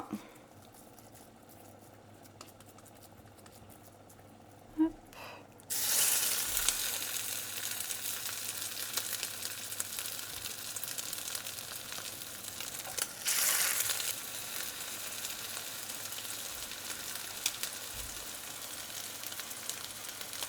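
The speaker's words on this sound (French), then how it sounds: "Je les mets directement dans la poêle fur et à mesure." Beef pesto polpette sizzle steadily in olive oil in a frying pan, the quiet background jumping to a loud, continuous crackling fry once the meatballs go in, with a brief surge of spitting partway through.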